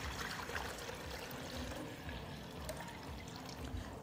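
Water is poured into a plastic bottle, about a litre, making a faint, continuous trickling splash.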